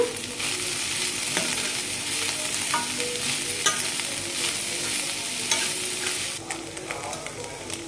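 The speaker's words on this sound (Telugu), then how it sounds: "ఇలా అడుగంటకుండా చూసుకొని కలుపుకోవాలి." Gongura curry with dried prawn shells is stirred in a pan over a loud, continuous sizzle, the spatula adding scattered scrapes and taps against the pan bottom, close and steady throughout.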